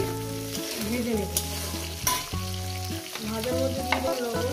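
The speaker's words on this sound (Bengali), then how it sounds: "কচুটা আলুটা সুন্দর করে আমি ভেজে নেব।" Taro and potato pieces fry in a pan while being stirred, giving a steady close sizzle broken by repeated scraping and clattering strokes of the spoon, with no voices.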